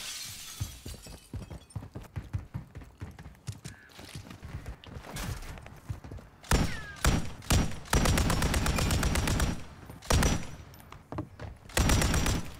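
Bursts of gunfire shooting through a wall in the shooter game Modern Warfare III, heavy automatic volleys and sharp shattering impacts repeating loud and close with short pauses between.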